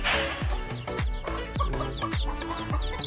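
Chickens and ducks on a small farm cluck in a busy, overlapping run of short calls, close and fairly loud, with no talking.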